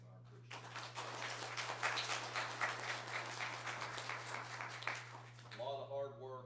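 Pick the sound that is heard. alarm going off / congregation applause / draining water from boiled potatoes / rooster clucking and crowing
congregation applause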